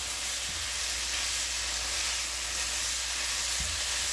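Leftovers fry in a Ninja 10.5-inch non-stick fry pan, giving a steady, even sizzle and hiss close by that runs throughout with no talking.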